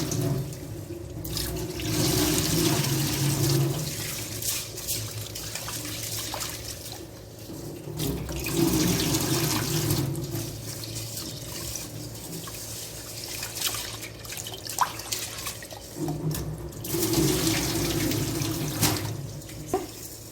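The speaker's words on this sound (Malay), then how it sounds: "Sekarang beras dan urut dal ni saya nak basuh sebanyak" Rice and urad dal rinsed under a running kitchen tap for thosai batter, water splashing steadily into a sink with brief pauses and sloshing as the grains are swirled and drained, no talking.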